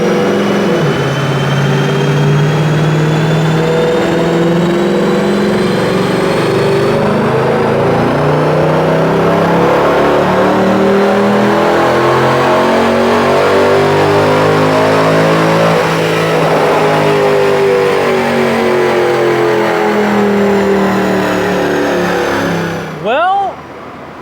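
A stock Mercedes C63 Edition 507 V8 revs hard and loud on a wheel horsepower dyno run, the engine note climbing steadily through the gears for over twenty seconds before cutting off abruptly at the end.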